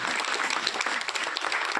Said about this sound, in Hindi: हमारे पत्रकारों के लिए एक जोरदार ताली आप सभी की ओर से।